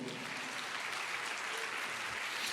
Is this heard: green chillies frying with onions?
no